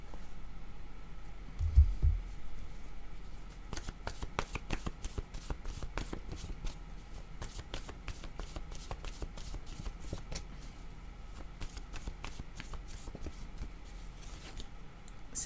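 Tarot cards being shuffled and drawn by hand, a close, dense run of rapid riffling flutters and soft slaps that goes on steadily with a few sharper taps, and no talking.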